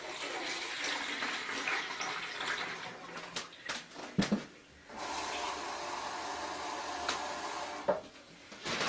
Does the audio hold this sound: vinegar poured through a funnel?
yes